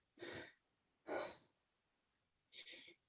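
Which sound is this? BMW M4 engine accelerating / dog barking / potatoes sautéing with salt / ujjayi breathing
ujjayi breathing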